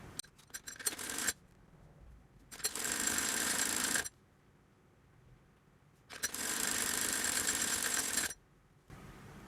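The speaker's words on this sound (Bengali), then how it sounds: "আর একটা আমি সেলাই করতেছি এখন।" A sewing machine stitches the side seam of a child's salwar in two long runs of steady, whirring stitching close by, with quiet pauses between them and a few brief clicks at the start.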